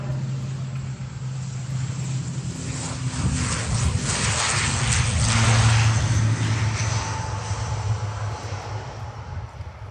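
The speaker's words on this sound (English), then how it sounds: "ATR 72 starts its takeoff" ATR 72-600 turboprop airliner starting its takeoff roll at an airshow, a steady loud engine roar and propeller drone building and swelling through the middle, holding strong to the end.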